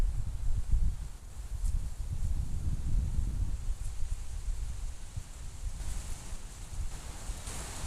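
Wind gusting outdoors, a rough low rumble buffeting the microphone that surges at the start and again midway, then settles to a steady blustery roar with some airy hiss, no voices.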